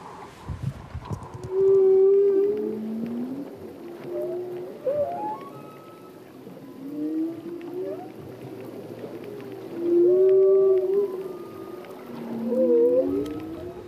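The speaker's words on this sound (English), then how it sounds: "a computer can lower the frequency to enable the scientists to actually hear the whale sounds" Whale vocalizations slowed and lowered in pitch by computer: long tonal moans and sweeping calls arrive in several swells, loud and clear over a quiet background, with no talking.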